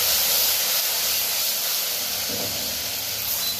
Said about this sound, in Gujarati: તો જો આપણે આ શાક વઘારી નાખ્યું,